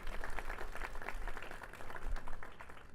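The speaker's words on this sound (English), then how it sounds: "please have a round of applause for all of our sponsors and their generosity" An audience at a 2019 St. Patrick's Day celebration in West Haven gives a round of applause, a soft, moderately distant patter of many hands clapping at once, steady throughout.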